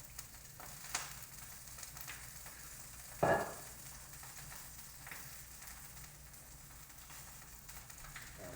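Olive oil sizzles in a pan while meat sears, a faint steady frying hiss with a brief louder crackle burst partway through, and no voices.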